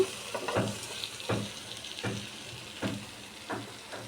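Taro flowers with shrimp sizzle in a frying pan while a utensil scrapes through them in regular stirring strokes under a constant frying hiss.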